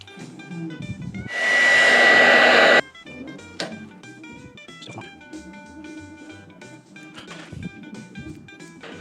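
Hair dryer blowing to dry a degreased bike part before painting, a loud steady whoosh running about a second and a half and then cut off abruptly, with quieter workshop clatter and handling sounds around it.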